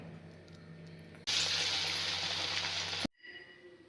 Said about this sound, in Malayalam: ഇനി എണ്ണ ചൂടായിട്ടാകുമ്പോൾ നമുക്ക് ഇതുപോലെ ചെറിയ ചെറിയ പീസാക്കി എടുത്തിട്ട് ഇട്ട് പൊരിച്ചെടുക്കാം